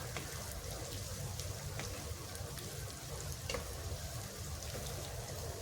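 Carrot and garlic fry in a pan for a carrot and amla pickle, giving a dense, continuous crackling sizzle with a low hum beneath and no voices.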